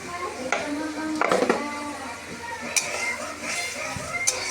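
A gourd and crab curry is stirred in a pan, a spoon scraping and clinking against the metal over a soft sizzle, close by, with speech at points.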